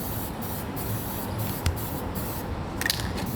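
Steady hiss of an aerosol spray can coating a 2000s Toyota Hilux in matte black, continuous and close with brief pauses and faint rattles.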